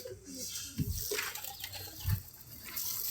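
Water poured and splashed through a pigeon cage during cleaning, a steady wet hiss with a couple of heavier sloshing bursts, fairly close and moderately loud.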